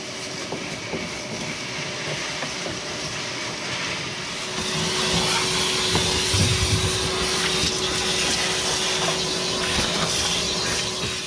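A vacuum cleaner runs steadily while cleaning out the floorboards of a 1968 Dodge Charger, a continuous close whir that grows louder partway through and holds a constant tone to the end, with no talking.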